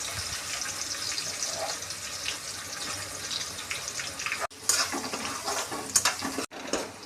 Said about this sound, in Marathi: खडे गरम मसाले भाजले की कांदा परतून घेऊ